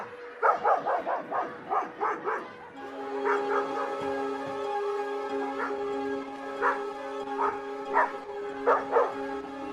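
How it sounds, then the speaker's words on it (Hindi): Dogs that have got into a school, barking in a rapid run of close, loud yaps, then scattered barks and whimpers continuing over a steady tonal hum. "स्कूल में फिर से कुत्ते घुस गए।"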